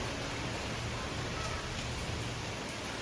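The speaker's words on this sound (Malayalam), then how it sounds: "നല്ല മഴ" Steady rain falls on a rainy evening while mussels are being grilled, a soft, even hiss of drops heard at a distance throughout, fairly faint and unbroken.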